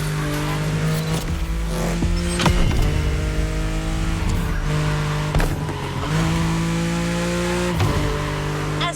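A Ferrari 308 GTS drives through Hawaii in The Crew Motorfest, its engine holding a steady loud drone with repeated gear shifts, revs climbing and dropping, and short tire squeals.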